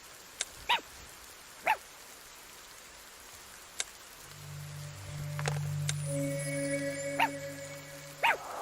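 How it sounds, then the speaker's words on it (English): A dog barks a few times in short, sharp bursts inside an adventure game, spaced out over faint patter and soft ambience, while a low steady hum and tonal chime swell in later. "The dog's scared of something."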